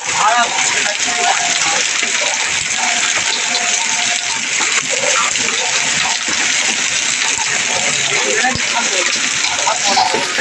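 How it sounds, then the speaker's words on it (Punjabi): A heavy hailstorm pelts down on Jogewala village near Makhu in Punjab: a dense, loud, unbroken clatter and roar of hailstones drums steadily across the whole stretch without pause. "ਗੜੇ ਬਹੁਤ ਪੈ ਰਹੇ ਆ ਜੀ ਜੋਗੇ ਵਾਲੇ ਦੇ ਵਿੱਚ"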